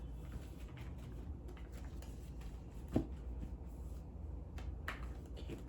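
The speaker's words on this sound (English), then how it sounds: "These cards are huge, so I'm shuffling them in a different way than I'm able to shuffle any other" Large tarot cards being shuffled by hand, quiet papery rustles and soft slides in a close, still room, with one sharper tap partway through.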